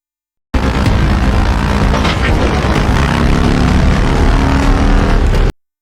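A propeller plane's engine roars loud and steady at close range, cutting in and out abruptly.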